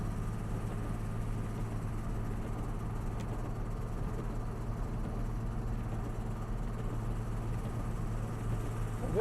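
A rough-running blown engine in a $600 Ford Mustang drones steadily while driving in third gear, a continuous low rumble with cabin noise and no talk over it.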